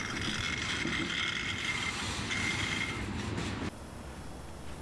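A mainline freight train rolls past with a steady broadband roar and a thin metallic squeal of wheels, then the sound drops abruptly to a quieter rumble near the end.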